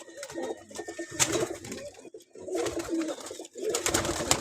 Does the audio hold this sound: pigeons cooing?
yes